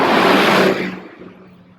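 Road traffic noise beside a riverside walk near Elmhurst Park in Woodbridge: a passing vehicle's broad rushing whoosh that fades quickly away within a second or two.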